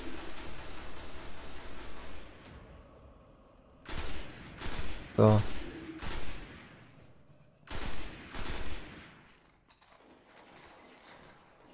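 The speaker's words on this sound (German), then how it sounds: "Ich knall hier alles andere ab." Bursts of rapid gunfire in the video game Destiny crack out in short clusters with pauses between, sharp and punchy, alongside a brief spoken German word.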